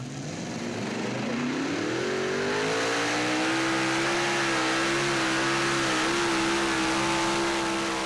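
Super modified pulling tractor engine held at full throttle through a whole pull, a loud sustained roar that climbs in pitch and then holds a high steady whine, with no talk.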